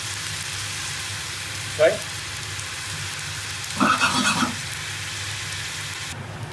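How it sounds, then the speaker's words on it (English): Egg fried rice sizzles steadily while being stir-fried, with a couple of brief clatters from stirring and a single short spoken word. "So that's had about 3 or 4 minutes stir frying there."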